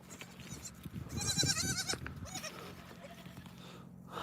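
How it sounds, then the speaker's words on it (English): A goat bleats outdoors on a farm, one wavering, nasal call rising in the middle of the moment over low background noise and rumble, fairly close and with no talking. "Little goaty Frou-Frou"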